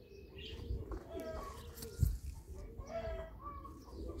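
Pigeons flying in a circle overhead outdoors, with soft cooing and chirps plus faint wing flaps at a moderate distance under steady background noise; a brief louder thump near the middle.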